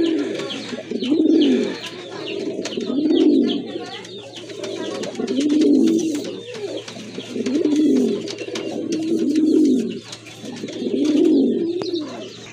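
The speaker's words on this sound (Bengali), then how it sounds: "কোয়ালিটি ফুল এক জোড়া কবুতর" A pair of pigeons coos steadily nearby, six or seven rolling, throaty phrases repeating in an even rhythm over a constant low hum.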